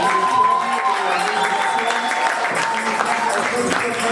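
A crowd applauds steadily at a church service, with dense continuous clapping and some cheering voices mixed in, sustained and fairly loud throughout.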